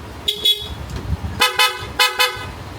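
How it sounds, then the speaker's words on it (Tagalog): A PIAA horn fitted to a Yamaha Aerox V3 scooter honks in three short double blasts, loud and close, with brief pauses between bursts and no talking. "Yan yung busina, pwedeng PIA, pwedeng stock."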